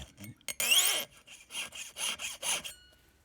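A hand saw rasps through a metal piston ring in a series of short back-and-forth strokes, close and scratchy, with a brief metallic ringing squeal at the start.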